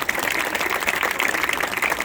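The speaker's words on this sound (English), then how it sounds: "Can we give them a round of applause, please?" Audience applause for marching band volunteers at a band preview night, a brief, dense and fairly loud patter of clapping.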